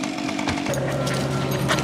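Chainsaw cutting through a tough locust tree, a loud close roar at high revs with a brief dip in pitch before it settles into a steady bogged-down cutting tone.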